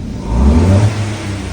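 A Kia Picanto 1.0 engine is pushed to wide open throttle, its close, loud rumble rising into a brief rev before settling back into a steady hum.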